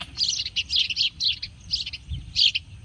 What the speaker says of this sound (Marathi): चिव चिव करतायत चिमण्या